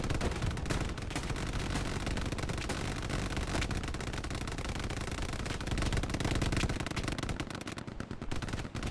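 Machine gun suppressing fire in a D-Day battle video game, a dense, loud, continuous roar of rapid automatic bursts with booming impacts that barely lets up.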